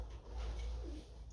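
Pigeons cooing softly, a faint low murmuring call heard under a steady background hum, close and quiet, with no talking.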